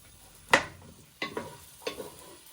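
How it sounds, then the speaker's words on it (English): Vegetables for Singapore vermicelli stirred in a pan: three separate scraping, clattering strokes about half a second apart, the first loudest, over a faint background sizzle. "Just give them a gentle stir"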